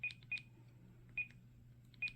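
An Icom ID-52 handheld radio gives short, high electronic beeps as its menu buttons are pressed, four quick tones in an uneven pattern, faint and close over a low background hum.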